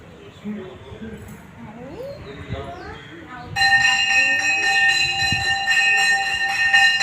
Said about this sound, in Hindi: घंटा सुनो, घंटा